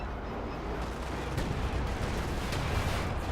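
Tank cannon and gunfire in Company of Heroes 2, with a Panzer IV firing in a steady, dense battlefield din of booms and crackle, sharper reports near 1.5 and 2.5 seconds.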